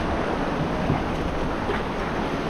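A river wave rushes over a raft on the Trishuli river, a steady, loud broadband roar of churning water and wind noise on the microphone that holds without a break.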